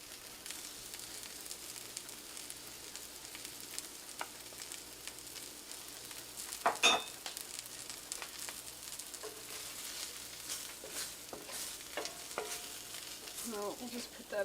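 Two tablespoons of flour stirred into a pan with vegetables for pork gravy gives a soft, steady sizzle and frying hiss, with occasional scraping stirs throughout, fairly quiet and close.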